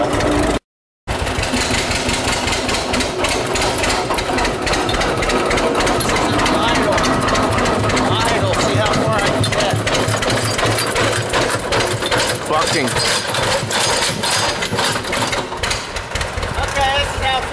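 A loud tractor engine runs steadily while driving uphill, rough and droning, with a brief dropout near the start and faint voices underneath.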